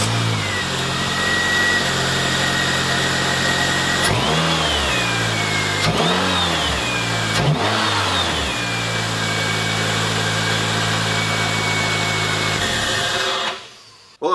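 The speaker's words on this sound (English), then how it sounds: "I'm going to start the car up and let's see if the engine shakes more or less" A Toyota Corolla XRS, fitted with polyurethane motor mounts, runs in a steady close idle, with three brief revs of the engine partway through before it cuts off abruptly near the end.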